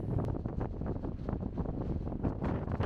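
Strong gusts buffet the microphone in a steady, rough roar with no voices, a constant blustery rumble outdoors by a sandy beach at Playa de Monsul, Cabo de Gata, Spain.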